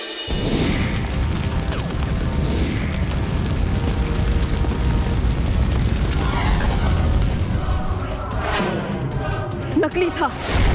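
A gift bursting open as a magical explosion effect, with a dense, loud rumbling boom that roars steadily throughout, a crackling burst near the end, and voices beneath.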